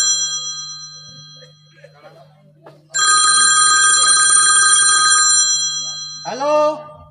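An old-style telephone bell rings on stage during a Bengali theatre play, one loud sustained ring of about two seconds following quiet murmuring, then a short voice right after.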